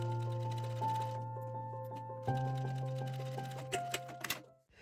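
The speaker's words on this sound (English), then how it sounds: "we will go back to the sewing machine and we are gonna top stitch" A sewing machine top stitching a crossbody bag runs in a steady, close mechanical hum with rapid regular needle ticks, pausing briefly midway before resuming, with a few sharper clicks near the end.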